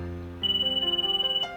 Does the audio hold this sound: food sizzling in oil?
no